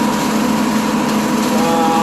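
A tractor running a John Deere brush hog over cornstalks, a steady droning engine with a constant mechanical whine, moderately loud and uninterrupted.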